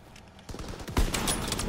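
Rapid automatic gunfire in a World War II shooter game, loud and close, building into a dense burst of overlapping shots.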